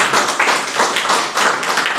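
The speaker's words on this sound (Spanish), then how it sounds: "fuerte aplauso a Dios" A congregation in a church applauding loudly, dense overlapping clapping in close, surging bursts that swell and dip across a couple of seconds.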